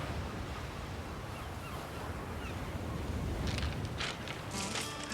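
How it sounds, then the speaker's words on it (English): Ocean waves wash onto a remote beach at low tide in a steady, soft roar. Wind noise sits over it, and a few light scuffing sounds appear near the end. "hear the waves crashing a little bit"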